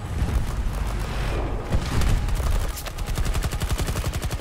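A stationary fixed turret in the PC beta of Battlefield 2042 fires loud, rapid, evenly spaced bursts that build into sustained automatic fire over heavy battle noise.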